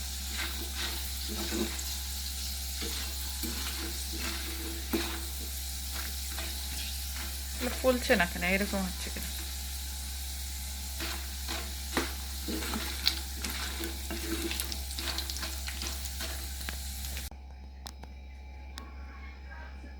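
Mughlai paratha frying in oil gives a continuous crackling sizzle with scraping utensil sounds. Someone speaks briefly partway through, and the frying noise cuts off abruptly near the end.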